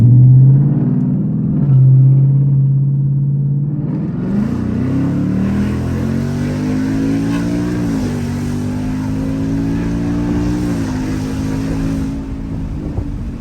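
A 2018 Ford Mustang GT with a C&L muffler delete rumbles at a low idle, then the engine revs up into a loud, deep, throaty drone. The note climbs and settles into a steady, booming exhaust tone close by.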